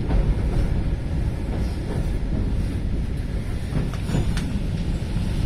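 Loud low rumble of a Keihan Ishiyama-Sakamoto Line electric train in Shiga, Japan, running steadily, with rattling and faint clanks riding over the continuous heavy drone.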